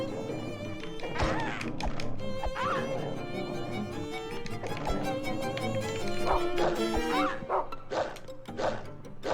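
A dog barks repeatedly in the survival horror video game Rule of Rose, with yips and short whimpers over a busy, cluttered game soundtrack of thuds and tones, and no speech.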